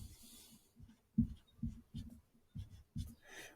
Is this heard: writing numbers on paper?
yes